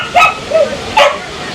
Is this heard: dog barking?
yes